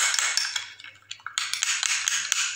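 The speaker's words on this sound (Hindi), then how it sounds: "अब हम इसको अच्छी तरह से करेंगे मिक्स।" A spoon clinking and scraping against a bowl while a homemade face pack is mixed, quick irregular metallic taps close up with brief pauses.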